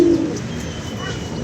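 A pigeon kept in a Lahore pigeon loft gives a low, soft coo at the start, then it fades into steady background noise.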